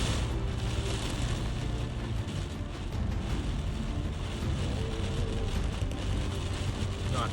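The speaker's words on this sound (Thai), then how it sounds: "โอ้โหฝนตกหนักขนาดครับ" Heavy rain drumming on a car while driving into Lamphun town during a storm, a dense, constant hiss and patter over a low road rumble, steady throughout with no voices.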